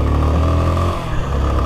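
A motorcycle passing along a city street in Poços, its engine a steady loud drone that dips slightly midway as it goes by, with no talk over it.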